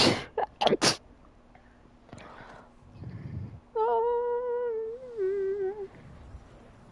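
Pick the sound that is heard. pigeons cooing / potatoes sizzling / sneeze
sneeze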